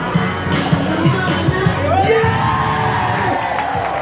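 A street performance crowd at a bustling Fremantle market in Western Australia whoops and cheers, with scattered shouts and voices and some talking mixed into the lively outdoor noise.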